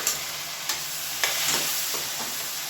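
Three chopped tomatoes sautéing in oil over a medium flame, giving a steady close sizzle broken by a few light spoon scrapes as they are stirred.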